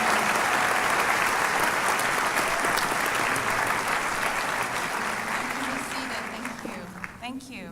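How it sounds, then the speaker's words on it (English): Sustained applause fills a commencement ceremony at Clovis Community College as award winners stand, a large crowd clapping loudly and steadily before tapering off near the end, with a voice speaking faintly beneath it. "Give you a big round of applause."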